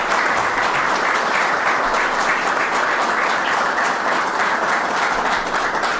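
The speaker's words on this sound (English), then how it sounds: "I want to give you a special round of applause for all you do here." An audience gives sustained applause for police at an event with the governor in Buffalo, a thick, even wash of many hands clapping at steady volume throughout, with no speech heard.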